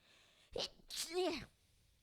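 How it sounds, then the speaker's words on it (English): A single sharp sneeze with a quick inhale followed by a loud burst, alone against a quiet background. "I'm gonna sneeze."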